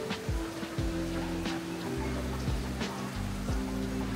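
Steady foggy rain patters across the whole clip at a restaurant in Tagaytay, a dense hiss with low rumbling hum underneath and occasional brief knocks.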